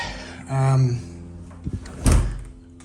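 A door that a locksmith has just adjusted so it closes better swings shut with a short thud and latch click. A voice talks before it, and a fainter knock comes earlier.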